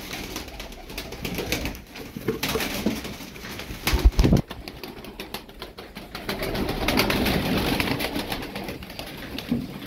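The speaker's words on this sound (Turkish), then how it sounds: "Alın, 50 tane kuş var burada." A flock of around fifty Turkish tumbler pigeons cooing together, a dense, continuous murmur of soft throaty calls with occasional wing flutters and shuffling, fairly close and filling the whole stretch.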